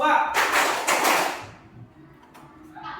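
Children in a classroom clap their hands in short bursts during a counting game, several sharp claps close by followed by quieter tapping.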